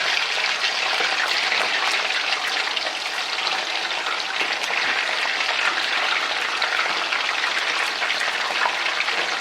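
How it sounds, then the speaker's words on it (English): A dense, steady sizzle and crackle of chicken wings frying in hot oil, loud and continuous throughout with no voices. "Basically all you're doing is adding them to the hot oil."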